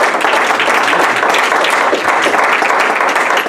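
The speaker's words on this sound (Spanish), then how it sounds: "dale el aplauso fuerte al Señor" Loud, sustained applause from a church congregation, dense clapping that holds steady throughout.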